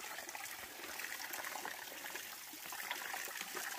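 Water trickles steadily in a small stream along the Appalachian Trail, a soft continuous broadband babble heard up close with no talking.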